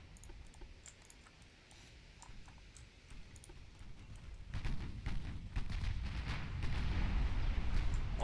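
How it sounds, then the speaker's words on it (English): Rumbling ammunition detonations aboard warships in the naval game Ultimate Admiral Dreadnoughts, a low crackling roar that swells loudly in the second half with scattered sharp bursts. "Oh, and more ammo detonations."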